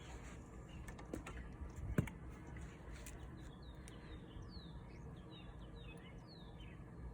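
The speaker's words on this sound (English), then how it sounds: "Oh, you can hear the birds." Faint birds chirp and whistle in the distance, several short calls spread over a quiet background with a few soft clicks and taps nearby.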